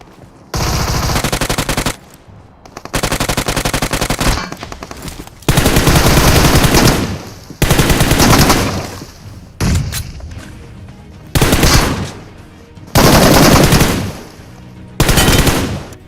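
Loud bursts of automatic gunfire in BGMI rattle out in long strings, about eight sustained volleys separated by short pauses, close and dominant with no talk over them.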